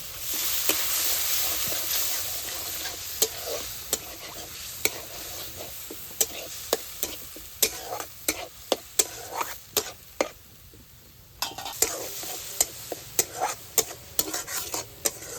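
Spice paste with salt, chopped tomato and a little water being stirred and fried in a pan, a steady sizzle under repeated sharp scrapes and clinks of a spoon against the pan.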